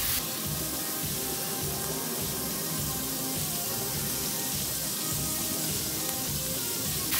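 Bacon sizzling on a flat-top breakfast griddle, a steady dense hiss and crackle running unbroken and fairly loud throughout, with no one speaking.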